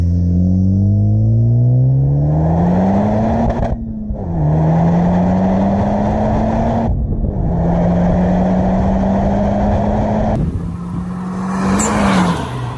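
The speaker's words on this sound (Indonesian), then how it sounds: "sayangnya ini membuat suara ketiga knalpotnya tidak terlalu buas" A Honda Civic Type R with a triple exhaust, the center pipe acting as a resonator, revs repeatedly; the engine note climbs, holds and drops in several loud, close pulls with brief gaps between them.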